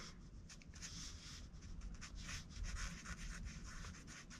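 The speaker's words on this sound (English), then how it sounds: "sketching ideas, or just sketching" A pencil sketches on paper in quick, repeated scratchy strokes, faint and close, in a steady brushing rhythm with no talking.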